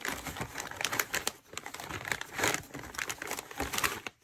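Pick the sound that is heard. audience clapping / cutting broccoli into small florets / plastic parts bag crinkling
plastic parts bag crinkling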